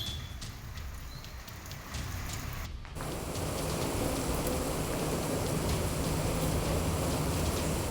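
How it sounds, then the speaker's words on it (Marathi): Unseasonal early-May rain falls on Pandharpur, a steady broadband hiss of downpour that thickens partway through and continues without pause. "पंढरपुरामध्ये सुद्धा अवकाळी पाऊस कोसळतोय"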